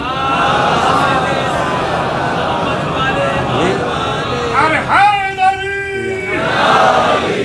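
A large congregation at a Muharram majlis recites salawat together, a loud, swelling unison chant of many voices over a constant crowd murmur, with sustained group vocal tones near the middle and end.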